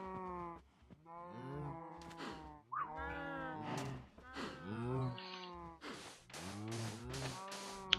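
Cows in an enclosure in the Minecraft video game let out a series of low, drawn-out moos, one after another, quiet overall with brief pauses between calls.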